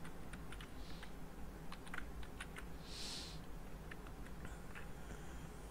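Quiet, steady keyboard typing while code is entered, soft irregular key clicks throughout over a low background hum, with no voice.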